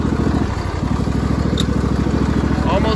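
Engine of an aging Craftsman riding lawn mower from a junkyard, running steadily through its gears, a constant loud buzzing drone with rapid regular firing pulses, close by and without pause.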